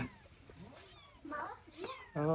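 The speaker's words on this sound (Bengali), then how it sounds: "ও এগুলো দেশি বিড়াল" A local Bangladeshi domestic cat meows a few times in short, rising cries, close by, alternating with people talking nearby.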